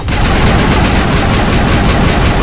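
Sniper rifles fire in the sci-fi shooter Mass Effect, a loud, dense barrage of rapid overlapping shots that roars on without a break and fills the whole clip.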